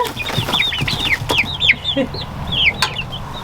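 A flock of chickens, including young roosters, clucking and peeping with many overlapping short calls, busy and close, over a low background hum.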